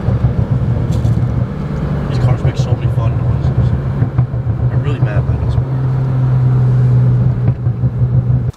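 A BMW 335i drives along with a low, steady engine drone and road rumble inside the cabin, the note holding firm and rising slightly late on, while voices talk over it.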